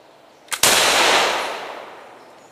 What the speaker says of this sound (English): Go ahead and shoot this one off.